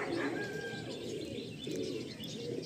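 Malwai pigeons from Punjab coo softly and steadily, with faint chirps over a low murmuring background and no talk.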